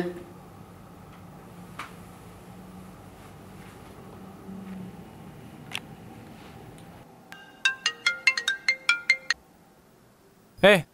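A phone ringtone plays as a short electronic melody of bright, rapid beeping tones that starts several seconds in, after quiet background murmur, and is followed by a loud burst at the end.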